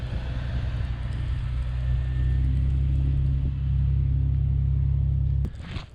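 Steady, loud low engine rumble of a Jeep Cherokee XJ crawling over ice in four-wheel drive, droning evenly close by before cutting off abruptly near the end.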